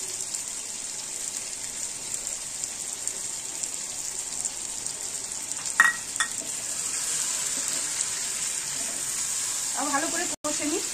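Chicken dopiaza with cashew paste sautés in a pan with a steady, moderate sizzle, a couple of brief utensil clinks, and a faint voice murmuring near the end.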